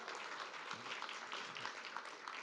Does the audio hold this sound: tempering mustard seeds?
no